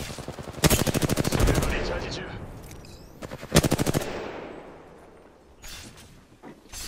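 Rapid automatic gunfire from the video game Apex Legends comes in two loud bursts, the first longer and the second shorter, with quieter game sounds between and after.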